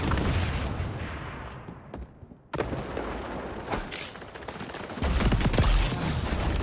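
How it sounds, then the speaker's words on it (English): A grenade blast in the shooter XDefiant, amid a chaotic firefight of rapid gunshots and booms, with a brief dropout before the heavy explosive impacts resume loudly. "fucking grenade!"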